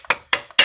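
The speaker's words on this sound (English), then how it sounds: "I take a hammer and I just lightly tap it" Three light, sharp hammer taps on a bolted engine part during a teardown of a 2004 Silverado 2500 with a 6.0 engine, evenly spaced and close up, with nothing else heard between the strikes.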